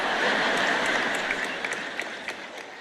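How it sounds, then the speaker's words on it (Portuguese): Audience applause fills a church hall during a Bible study session as a steady wash of many hands clapping together. It stays dense at first, then slowly thins, with a few sharper individual claps standing out as it tapers. "Ele ainda está batendo palmas"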